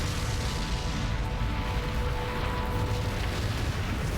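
Underground explosions tearing through a city sewer system in Guadalajara: a continuous deep, heavy rumble with no clear separate blasts, sustained and fairly distant-sounding throughout.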